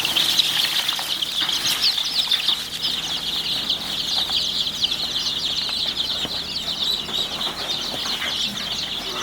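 Young local chicks peep in a steady, busy chorus close by, their high chirps overlapping continuously with soft rustling and scratching beneath.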